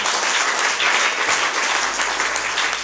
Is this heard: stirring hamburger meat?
no